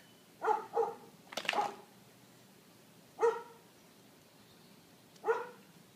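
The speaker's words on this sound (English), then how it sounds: "Is that the neighbor dog?" A dog barks a few times at moderate distance: a quick pair of barks, a longer one, then two single barks spaced apart, with quiet between.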